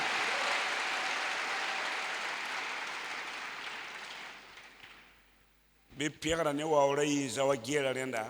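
A church congregation applauds in a sustained wash of clapping that fades out, after which a voice begins speaking.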